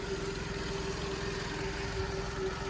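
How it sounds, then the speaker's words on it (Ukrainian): A Volkswagen Golf 5 estate's 1.6 MPI petrol engine idles quietly and evenly, a low steady hum with a faint constant whine, no voices. "Двигун просто шепоче."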